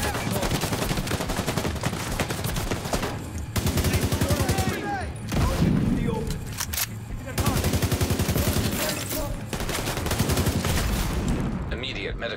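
Heavy sustained gunfire from The Division 2 shooter game, dense rapid bursts running almost nonstop with a few short breaks, loud and close, with a voice talking over parts of it.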